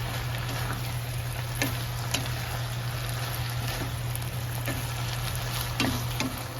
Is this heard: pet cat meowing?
no